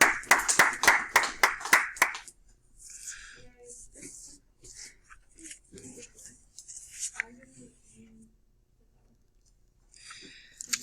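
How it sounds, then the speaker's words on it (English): A short burst of brisk clapping from a small group fades after about two seconds, followed by quiet scattered voices and murmurs nearby. "Round of applause for the ladies."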